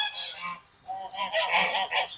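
Tufted American Buff geese honk in a loose group, several calls overlapping in bursts at moderate distance with brief pauses between.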